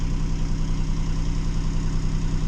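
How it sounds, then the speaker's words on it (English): A boat motor runs steadily with the alternator switched on, a constant low droning hum with a regular pulsing throb, close and continuous with no voices. "And you hear the motor start winding down."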